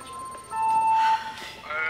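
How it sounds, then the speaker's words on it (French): A single electronic bell tone rings out in an indoor workplace during a break, a sustained ding with bright overtones that fades after about a second, with faint background noise. "Ignorez la cloche là, que vous venez d'entendre."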